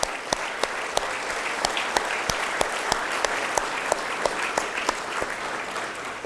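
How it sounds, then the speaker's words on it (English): Steady applause from the audience at a 2017 State of the City address, a dense wash of clapping with a few sharper claps standing out, moderately loud and continuous throughout with no voices on top. "Please give them a round of applause."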